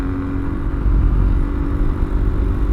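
A Yamaha XT225 dual sport motorcycle being ridden on a day trip in southeast Indiana, its small single engine giving a steady low rumble mixed with wind and road noise, close and continuous.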